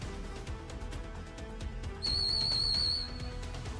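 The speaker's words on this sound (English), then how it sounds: "He has a dog whistle" A sharp, high-pitched dog whistle sounds once for about a second, loud over a busy background of fight sounds and music in the Yakuza video game.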